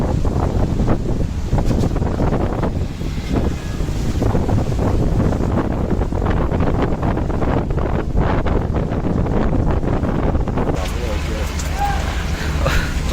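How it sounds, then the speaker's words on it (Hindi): Heavy rain pelts a rickshaw canopy in a Pakistani bazaar, a loud, continuous rushing patter with gusty texture that shifts near the end, while someone talks over it. "ज़बरदस्त किस्म की बारिश शुरू हो गई है"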